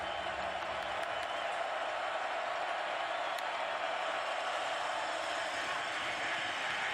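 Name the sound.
stadium crowd noise at a college football game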